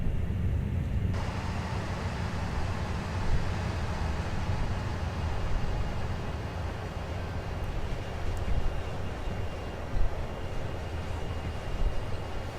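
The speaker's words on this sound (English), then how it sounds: "Oh, hi train." A continuous low rumble with steady clatter rolls on throughout, like a train passing nearby, with no clear rise or fade.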